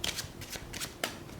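A deck of playing cards is shuffled close up for a magic routine, with quick riffling bursts of papery flutter coming in rapid succession.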